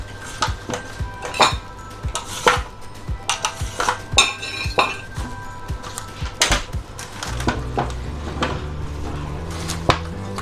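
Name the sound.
knife chopping asparagus into small pieces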